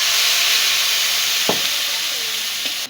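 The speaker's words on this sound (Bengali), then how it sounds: "একটু জল দিয়ে দিব।" Water splashes into a hot pan where a spiced hilsa fish head fries with turmeric and salt, giving a steady close sizzle and hiss with a brief burst of bubbling and a couple of small clinks.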